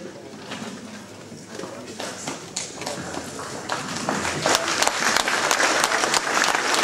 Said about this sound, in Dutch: Ja, geef ze maar applaus.